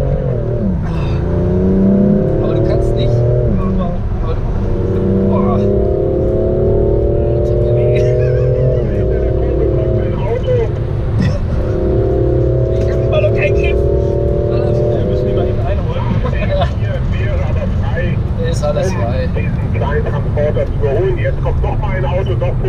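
During a driving lesson, a car's engine strains and revs loudly from inside the cabin as the car slides sideways through a curve, pitch rising and falling in waves while people talk over it.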